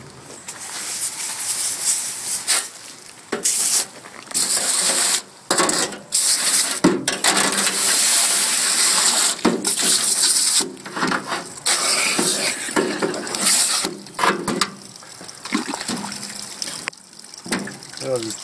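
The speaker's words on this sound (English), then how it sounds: "I'll give everything a rinse while I'm at it." Running water gushes steadily from a tap as processed poultry is rinsed, a loud continuous splash broken by short pauses and changes in the flow, with brief handling sounds between.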